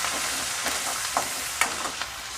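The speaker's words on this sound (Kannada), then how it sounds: "ಹುರ್ಕೊಂಡ ನಂತರ ನಾವು ಹಸಿಮೆಣಸಿನ್ಕಾಯಿ, ಕರಿಬೇವಿನ ಸೊಪ್ಪು ಹಾಕೊಳ್ಳೋಣ. ಹಾಕ್ಕೊಂಡು ಚೆನ್ನಾಗಿ ಮತ್ತೆ ಹುರ್ಕೊಳ್ಳಿ" Green chillies and curry leaves frying in a pan while being stirred, a close dense sizzle with a few sharp scraping spatula knocks over it.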